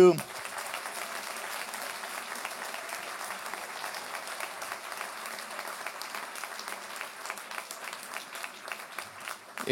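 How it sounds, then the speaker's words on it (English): Steady crowd applause fills a graduation ceremony hall, a dense, even wash of many hands clapping at moderate loudness throughout, with a voice faintly present at the edges. "So again, a big applause for all of the graduates."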